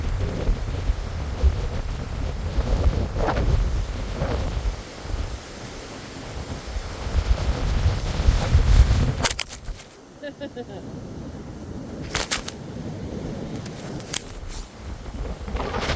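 Strong outdoor wind buffeting a camera microphone with rumbling roars and gusts, followed by sharp knocks and clatter as the camera is blown over, loud and close throughout.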